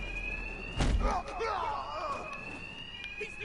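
An electronic alarm wails steadily in Batman: Arkham Knight as a thin sustained tone running throughout, with a thud and some voices in the game heard over it.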